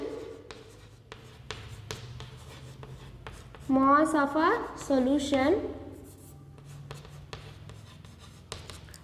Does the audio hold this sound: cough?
no